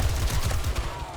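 Rapid bursts of gunfire in the game 7 Days to Die, a fast, loud, evenly spaced string of shots filling the whole moment, with no talking.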